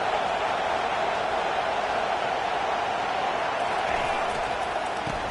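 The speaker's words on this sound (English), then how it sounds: "Decibels rising as the crowd gets behind this defense on 3rd down." Football stadium crowd at a Utah versus Texas game roaring steadily behind the defense on third down, a dense, sustained wash of cheering that stays loud and even throughout without a break.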